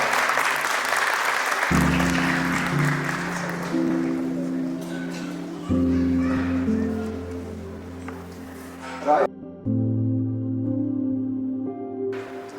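Wedding guests at a Nepali church ceremony clap after the couple is pronounced husband and wife, a moderate burst of applause overlaid by sustained organ-like music that continues after the clapping fades.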